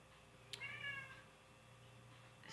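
A cat gives a single short meow, fairly faint and slightly distant, over a quiet room's low background hum.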